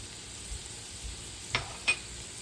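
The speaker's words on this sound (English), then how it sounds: "Now add chopped garlic to sizzling onion" Chopped garlic, carrots and spices sizzle softly in a pan with onion, a faint steady frying hiss broken by two brief clinks of a utensil near the end.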